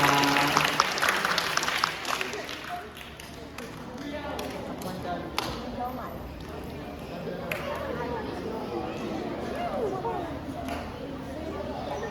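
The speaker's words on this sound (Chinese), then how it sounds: "那我们请给我们的演员热烈的掌声" A small theatre audience claps for actors at a Hakka community performance in Meinong, a burst of clapping at the start that thins out, followed by people talking and murmuring in the room.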